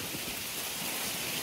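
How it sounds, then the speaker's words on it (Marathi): Rain with wind on the road to Jejuri during a pilgrimage tour, heard as a dense, steady hiss of falling rain that fills the whole stretch evenly without breaks, with no voices. "की हवा आली, पाऊस आला."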